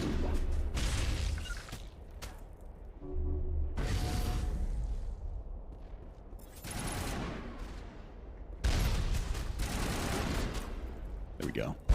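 Gunfire in the Mass Effect Legendary Edition video game, several loud bursts of rapid shots separated by quieter gaps, with a voice talking briefly in between.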